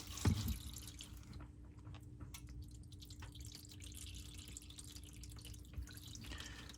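Dark used motor oil drains from a car's oil pan, a faint, steady trickle and drip heard close up with a single brief knock near the start.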